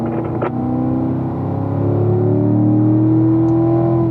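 A race car on track under full throttle, a loud close engine drone holding steady harmonics that climb gradually in pitch as it pulls, with no voices over it.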